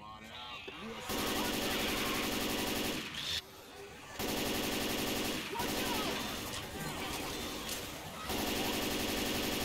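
Rapid automatic gunfire from a weapon in the video game Left 4 Dead, loud, dense bursts filling most of the clip with brief pauses between volleys, a voice faintly underneath.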